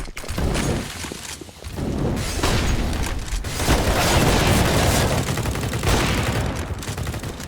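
Rapid gunfire in a competitive shooter game at a pro LAN tournament, with a no-scope sniper rifle shot among dense, loud bursts of shots and booms that continue almost without pause.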